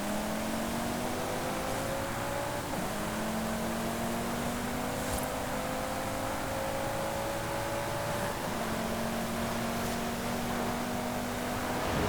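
Cupra Formentor VZ5 launching in the Forza Horizon 5 game: a steady engine drone climbs in pitch through the gears, with shift drops at a few points, sounding fairly distant and constant.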